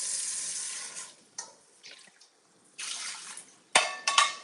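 Tap water runs into a cooking pot in a home kitchen in several short bursts, with broadband splashing that starts and stops and ends in a couple of sharper clinks and splashes.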